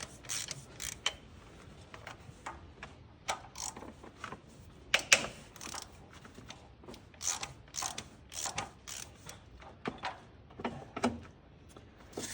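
Ratchet with a 15 mm deep-well socket working loose an exhaust manifold fastener on a 2003 Ford Ranger 2.3 engine, bursts of sharp clicking at an irregular pace, close and crisp against a quiet garage.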